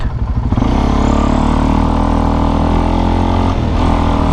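A Suzuki DRZ 400SM supermoto, a 400cc single, runs loud and close under a steady ride, its engine droning continuously with a slight dip in revs near the end.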